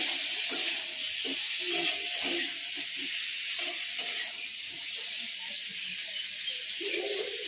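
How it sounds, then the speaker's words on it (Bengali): Cauliflower and potato curry frying in a pan gives a steady, close hiss and sizzle throughout, with faint clatter under it. "আর যে ফুলকপি দিয়ে আলু দিয়ে তরকারি করছি।"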